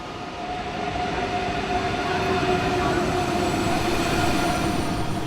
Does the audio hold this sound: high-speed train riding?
yes